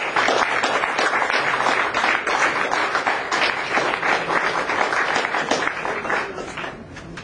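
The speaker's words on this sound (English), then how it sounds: "sorry, a big clap for Gary." An audience applauds a driver being honored at a 205 Challenge prize giving, steady dense clapping that carries on continuously and fairly loud throughout before easing slightly at the end.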